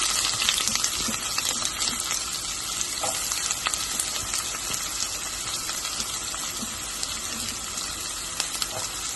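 Onion and ginger fry in a pan, giving a continuous, even sizzle with some faint scraping, moderately quiet and without talk.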